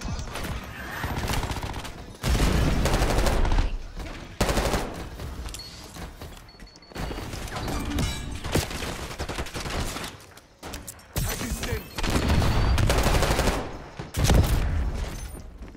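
Shotguns blast in a Call of Duty: Black Ops 6 multiplayer match, heavy close booms in irregular bursts separated by brief lulls, loud and forward with ongoing game noise.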